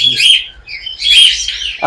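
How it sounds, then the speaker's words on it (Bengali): Pet parrots at a bird farm give bright, close chirps and tweets in two quick bursts with a short pause between them. "এখানেও চমৎকার একজন লাভবার পাখি আছে"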